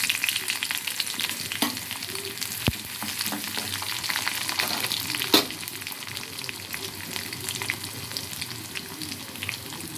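Cumin seeds, dried red chillies and garlic sizzle in hot oil as a tempering for bottle gourd dal, a loud continuous crackle with stirring clicks and no talking.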